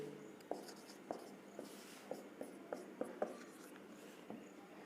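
Marker or chalk writing on a lecture board, a run of distinct taps and scratchy strokes in an irregular rhythm, fairly quiet and close in a calm room with no talking.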